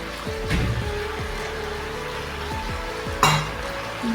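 Chicken with coriander leaves sautés in a pan with a continuous sizzle, broken by occasional scraping stirs and a sharp clink of a utensil against the pan.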